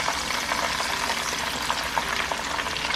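Pork chops fry in a pan of hot grease for a Chicago-style sandwich, a steady close hiss with small scattered pops and crackles of spitting oil, no voices.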